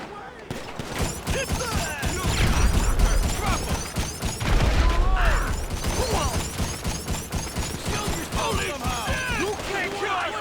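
Sustained turret gunfire in GTA Online during the Casino mission Strong Arm Tactics, with dense rapid bursts and explosive booms running throughout, loud and continuous, mixed with game sounds and voices shouting over the combat.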